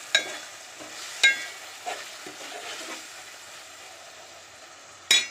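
Potato and brinjal curry with tomatoes stirred in a frying pan: a faint steady sizzle with a few sharp spoon-against-pan scrapes and clinks at the start, middle and end, no talk.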